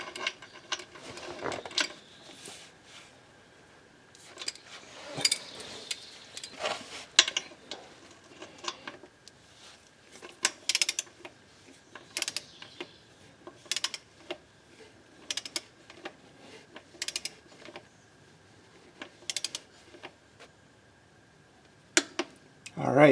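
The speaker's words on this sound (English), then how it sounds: "I'll go a little hand tight first, and then we'll use a torque wrench to 23 foot-pounds." A torque wrench tightens a drain plug on a Subaru CVT in a fifth-generation Outback, giving a long series of quiet, close ratcheting clicks in irregular bursts with pauses between them and no talking.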